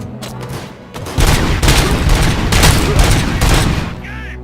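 Dense, loud bursts of gunfire from the RoboCop: Rogue City video game, rapid overlapping shots rolling for several seconds after a brief lull, with a shouted voice briefly mixed in.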